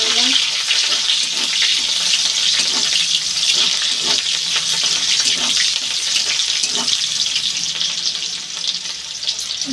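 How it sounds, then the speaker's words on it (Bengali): Bay leaf and onion sizzling in hot oil in a pan as the base for a meat curry, a loud, steady crackling sizzle with light stirring throughout. "তেজপাতা দিয়ে দিলাম, পেঁয়াজ ফোড়ন দিয়ে দিলাম, দিয়ে হালকা করে একটু নেড়ে নিলাম।"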